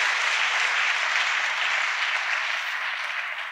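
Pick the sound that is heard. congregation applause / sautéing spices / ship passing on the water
congregation applause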